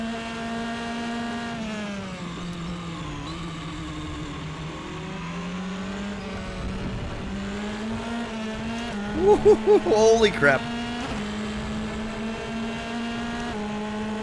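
A Formula race car engine at racing pace around Silverstone in the RaceRoom sim, droning steadily with rising and falling pitch through gear changes, a brief burst of higher revving midway, while a man exclaims over it.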